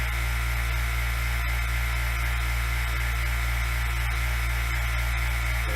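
A vacuum pump draws down a wood stabilization chamber built from a bain-marie with a silicone seal, giving a steady, loud, unbroken hum and hiss with no talking.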